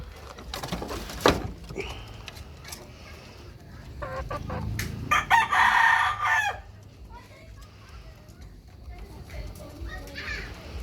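A four-month-old Sweater bloodline gamecock rooster from a game farm crows loudly, with clucking and other fowl around it and people talking in the background.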